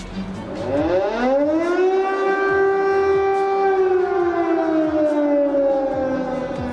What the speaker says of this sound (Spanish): Las sirenas que advierten por bombardeos inminentes se prenden varias veces por día